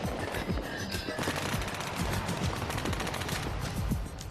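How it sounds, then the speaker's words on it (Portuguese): Rapid bursts of M16 and AK-47 rifle fire mixed with artillery crackle steadily in a dense, continuous volley, moderately loud throughout. "O barulho da artilharia, dos M16, dos AK-47 é autêntico"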